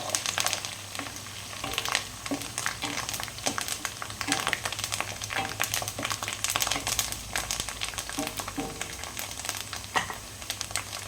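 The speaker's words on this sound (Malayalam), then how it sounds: "അങ്ങനെ കറിവേപ്പിൻ്റെ ഇല ഇതിലേക്ക് ഇട്ട് കൊടുക്കുകയാണ്. ഇതൊന്ന് മിക്സാക്കി കൊടുക്കാം." Curry leaves get stirred into mango pickle in a hot pan, giving a crackling sizzle with irregular scraping and rustling bursts while someone talks throughout.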